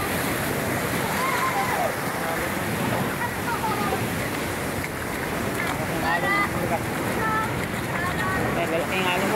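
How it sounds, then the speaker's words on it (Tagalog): Big sea waves crash and surge at the shore in Maubang as the northeast monsoon picks up at full moon, a dense continuous roar with wind buffeting the microphone and a voice talking intermittently over it. "Malaking alon mas mabigat."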